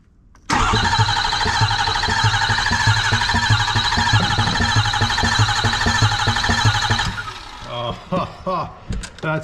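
A Ford 6.4 Power Stroke diesel engine cranks over steadily and loudly for about seven seconds with a rhythmic starter whir and slight skip but never catches, then slows into a few uneven turns.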